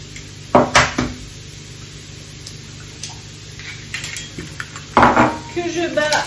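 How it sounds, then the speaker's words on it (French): Two whole eggs are cracked into a pitcher in a home kitchen, giving a few sharp, close knocks and light clatters separated by quieter moments, with no talking. "je vais casser 2 œufs entiers dans le pichet"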